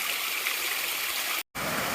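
A stream beside a hiking trail on the Appalachian Trail flows with a steady, full rushing wash, close and continuous, with a brief dropout near the end.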